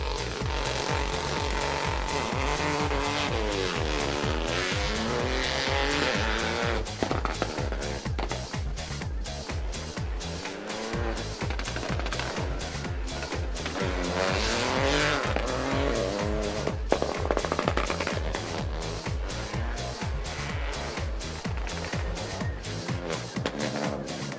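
A rally car at full speed on a special stage of the 2022 Rallye du Chablais near Champéry, its engine loud and close as it cycles through gearshifts and revs, with repeated tyre squeal and skidding through the corners.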